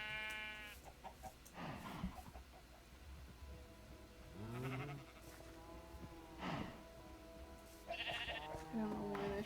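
Sheep bleats in a survival video game, several separate calls spread across the stretch, mixed with game sounds and a voice talking over them.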